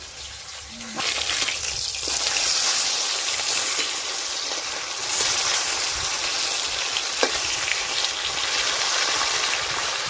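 Loud burst of sizzling as foli (featherback) fish hits hot oil, settling into a steady, close crackling fry with a sharp click midway.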